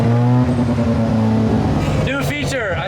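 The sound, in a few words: old project car engine revving while cruising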